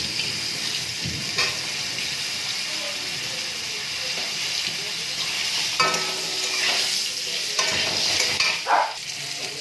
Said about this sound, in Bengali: দেখো আমি এখন ফুলকপিগুলো ভেজে নিচ্ছি।